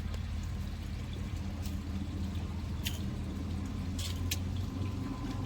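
Car traffic passes near a fishing spot as a steady low rumble with a faint hum, and a few small clicks and taps sit on top.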